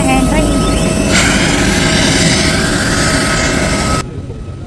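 An Air India airplane at the airport, its engines producing a loud, steady roar and whine that fills the scene before dropping off sharply near the end.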